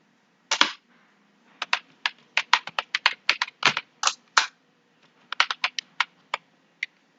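Quick bursts of keystrokes on a computer keyboard as a company address is typed into Tally Prime accounting software, with crisp, close clicks in irregular runs and short pauses between words.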